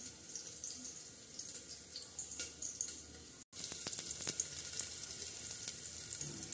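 Onion and curry leaves sizzle and fry in a pan for a soup base, a steady close crackle with faint clinks, briefly cutting out midway before returning louder.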